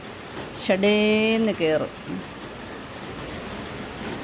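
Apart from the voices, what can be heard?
morning rain falling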